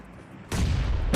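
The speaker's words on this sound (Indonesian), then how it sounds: "Gue yang kena bom ya." A loud bomb explosion from the PUBG Mobile video game erupts suddenly about halfway through, a heavy broadband roar that sustains to the end after a quieter stretch of game ambience.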